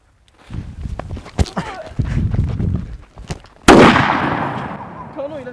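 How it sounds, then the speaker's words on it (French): A blowgun barrel loaded with black powder and TNT bursts in one sudden, loud blast that decays into a long noisy tail, after several seconds of scattered knocks, footsteps and muffled talk. "Il a explosé le canon!"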